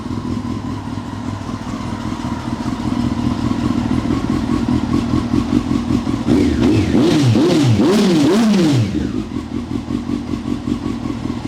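A 2002 Honda CBR954RR FireBlade with an aftermarket exhaust idles with a deep, pulsing note, then gives a few quick throttle blips before dropping back to a steady idle, close and loud.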